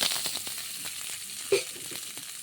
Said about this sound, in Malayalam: അപ്പോൾ കറിവേപ്പിലയൊക്കെ ഇട്ട് നമുക്കൊന്ന് ഇളക്കി കൊടുക്കാം.